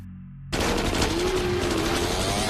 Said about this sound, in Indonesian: Pasukan Yorgi mengejarnya dengan tembakan demi tembakan.